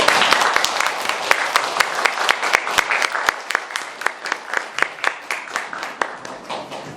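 An audience at a science lecture applauds to welcome the speaker, a loud burst of clapping that thins into sparse, distinct individual claps as it dies away.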